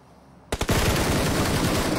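Shooter video game gunfire: a quiet lead-in, then a sudden cluster of sharp shots followed by a loud, sustained roar of continuous firing.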